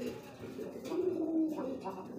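A pigeon coos softly and nearby, one low, drawn-out coo swelling in the middle of the short stretch, quiet and close.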